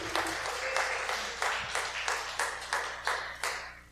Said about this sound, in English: Yes, applause, y'all.